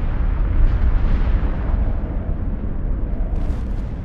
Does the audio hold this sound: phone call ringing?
no